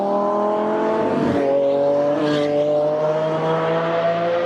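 A big green Chevrolet Camaro Track Concept V8 race car drives on a track, its loud engine note rising and falling steadily, with brief tire squeal and whooshes of passing as it works through the corners.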